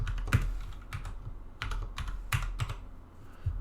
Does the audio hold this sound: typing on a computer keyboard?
yes